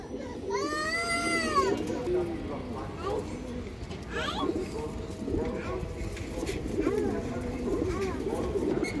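Large, big-headed pigeons coo with low throaty calls amid a busy, noisy background, with people talking nearby.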